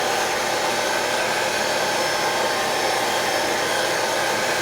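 A hair dryer blows a steady, loud, continuous rush of air, drying a model mask up close, with no talk over it.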